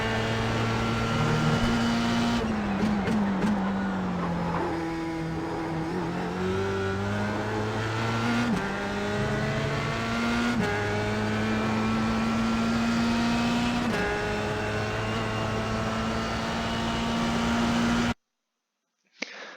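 Formula Sprint race car engine in iRacing at the Zolder circuit, a loud, steady close-up whine rising through gears with sharp shifts and dips for braking through a chicane, then cutting off abruptly near the end.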